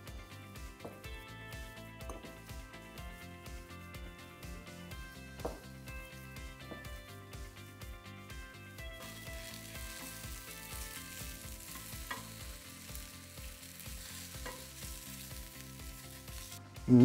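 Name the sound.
onions caramelizing in a frying pan with pepper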